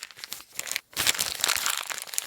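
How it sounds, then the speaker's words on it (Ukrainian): Crisp crinkling and rustling of paper being handled up close, with a brief pause before a louder burst of crumpling. "і шародіння паперу"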